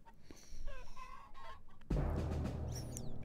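Chickens cluck in Totally Accurate Battle Simulator, a chickenman battle, with scattered squawks and clucks, then a thumping battle clamour of impacts and noise swells up in the second half.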